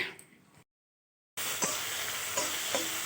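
Food sizzles in a pan, with a brief silent gap, then continuous frying hiss and a few soft stirring scrapes.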